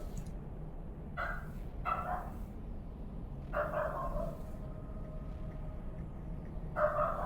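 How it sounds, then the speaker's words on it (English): A dog barks in a few short bursts from another room, moderately distant, spaced apart over a steady low background hum with no talking. "My dog's barking at something."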